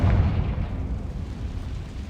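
The Confringo fire spell goes off in the video game Hogwarts Legacy as a deep, rumbling explosion that hits loudly at the start and then rolls on as a low boom for about two seconds.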